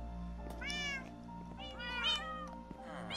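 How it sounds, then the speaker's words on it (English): Cats in a pet store meow faintly, several short meows overlapping from more than one animal over a low background hum. "All cats, quiet. You better not make noise"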